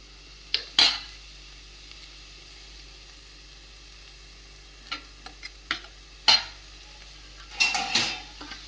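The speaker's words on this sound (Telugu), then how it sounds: "ఉల్లిపాయలు వేగుతాయండి" Onions frying in a pan, with a faint, quiet sizzle under intermittent metal utensil clinks and scrapes against the pan, no speech.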